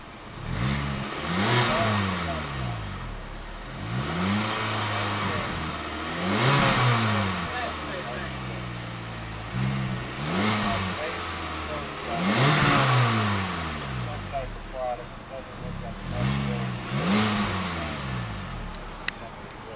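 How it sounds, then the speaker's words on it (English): A 2010 Kia Forte Koup SX engine is revved repeatedly, about six rising and falling blips heard up close over an idle, with no talk during the revs. "It's a good sounding car."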